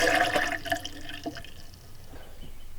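Water sputters briefly from an opened faucet in an RV water system as pressure is relieved, with a few gurgles and drips, then fades to a quiet hiss.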